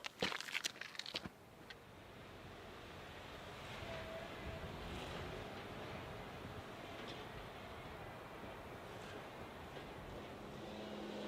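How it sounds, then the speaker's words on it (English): Strong wind at high elevation near a historic 1938 lookout tower, roaring steadily and loudly across the microphone after a few brief knocks and handling bumps at the start. "It's a bit windy at the higher elevation"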